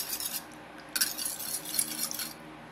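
A spoon stirs eggless chocolate fudge cake batter in a bowl, heard as close, bright scraping strokes in a few bursts, with light metallic clinks of utensil against bowl.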